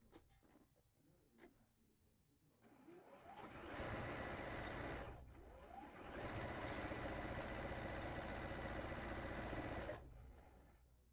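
A sewing machine stitches quilt pieces in two long, steady whirring runs, loud and close, with a short pause between them and soft handling noises before the first run.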